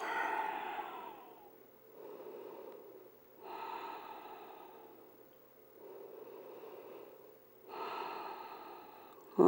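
Slow, deep breaths during a yoga stretch, with long airy inhales and exhales alternating at an even, relaxed pace, close and quiet, ending in a brief bump.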